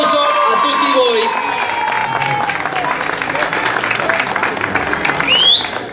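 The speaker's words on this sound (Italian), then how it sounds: "Un applauso a tutti voi." Audience applause fills a rally award ceremony, a steady dense clapping from a crowd with scattered cheers, continuous and fairly loud throughout, with voices mixed in.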